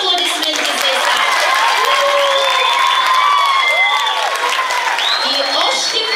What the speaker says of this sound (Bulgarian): Силни аплодисменти за Исак.